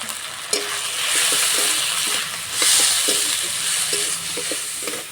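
Ground cumin, coriander, turmeric and chili powder sizzle in hot oil while a spatula scrapes and stirs in quick, repeated strokes against the pan, close and clear, with no speech.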